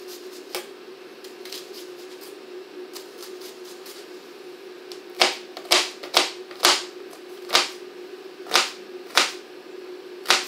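A knife chops vegetables on a board for white beans Breton-style, with crisp sharp chops, sparse at first and then a quicker run of about eight distinct cuts, close and clear over a steady hum.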